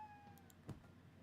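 A cat gives a single short meow near the middle of the clip. The meow is faint and brief against a quiet indoor background, with no talking.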